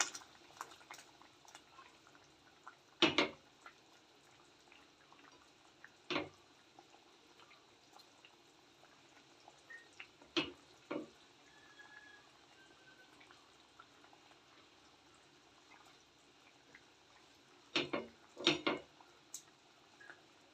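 Dried shark curry simmering in a pot on a home stove, a quiet low bubbling bed broken by a few louder sputters and pops spaced through the pot's steady simmer.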